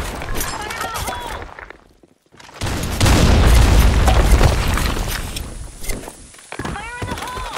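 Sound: grenade explosion in Blackshot video game

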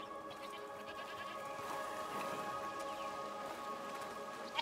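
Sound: goats bleating in video game A Plague Tale: Requiem

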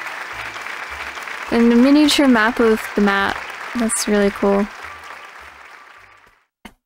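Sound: crowd applause for the mayor in video game Raw Danger

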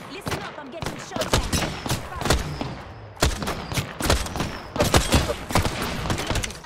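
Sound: gunfire hitting the player in the video game Apex Legends

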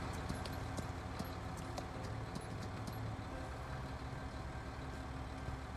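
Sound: horse hooves while riding, Farming Simulator 2019 video game

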